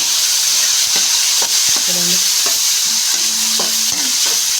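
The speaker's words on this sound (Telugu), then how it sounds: "ఇప్పుడు టమోటాలు వేసుకున్నాం చిన్న కట్ చేసుకొని ఇప్పుడు మళ్ళీ ఒకసారి కలుపుకున్నాం" Chopped tomatoes stirred in a frying pan while making vegetable rice, with steady sizzling hiss throughout and a few scraping utensil strokes and brief clinks over it.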